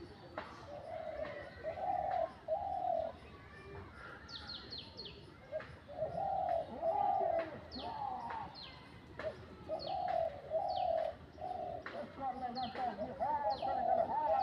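A bird calls repeatedly close by, quick cooing bursts in steady succession with sharp chirps mixed in, over faint background noise.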